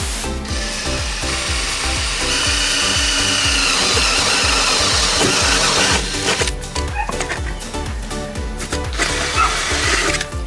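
A power tool drills holes in the metal housing of a Hyperlite LED wall pack, a loud, continuous rough whirring grind with rapid repeated pulsing that turns choppier and more broken toward the end.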